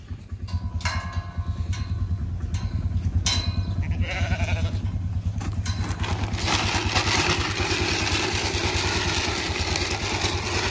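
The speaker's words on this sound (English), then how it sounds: "So these sheep, just going to shift them from there into here." Sheep bleat repeatedly over a steady low tractor engine rumble, several calls overlapping at close range amid continuous farm-vehicle noise.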